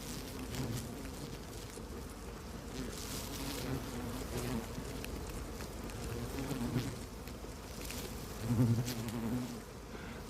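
A whirling swarm of male Ammophila wasps crowds around a newly emerged female, filling the air with a steady, low, droning buzz that swells briefly near the end.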